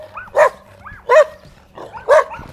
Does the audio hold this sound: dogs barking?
yes